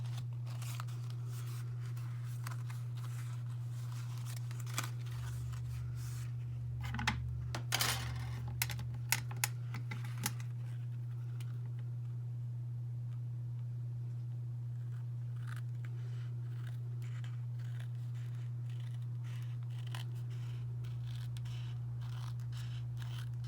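Scissors trim the paper edges of a handmade tag in a few quiet snips and rustles, faint and close, over a steady low electrical hum with no talking.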